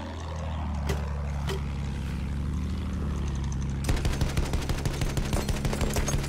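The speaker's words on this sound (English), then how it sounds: "There is a lot of shooting." Gunfire from the Battlefield 1 video game: a couple of isolated shots come first, then a rapid, steady burst of automatic fire that carries on to the end over a low engine-like rumble.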